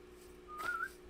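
A person whistles a short, thin bird-like note that rises and wavers slightly, a single brief phrase over a quiet room hum, imitating a bird rather than a real one.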